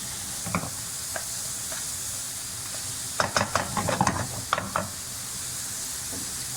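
Fried rice frying in a pan over a raised flame, a steady close sizzle with scattered bursts of crackle and stirring scrapes, heaviest in the middle stretch.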